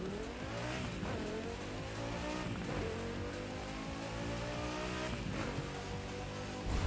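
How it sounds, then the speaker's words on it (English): Dodge Viper in the racing game Forza Motorsport, its engine roaring loud and close with repeated rising revs through gear shifts, each pitch climb dropping back before building again. "Now that sounds like a Viper."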